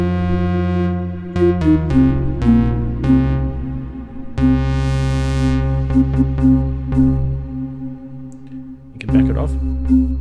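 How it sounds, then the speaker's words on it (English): Synthesizer oscillators hold rich, buzzy sustained tones that shift pitch in steps, with a swell of noisy whoosh midway and a few short transients, loud and close, with no voices. "I absolutely love the sound of these oscillators at the moment"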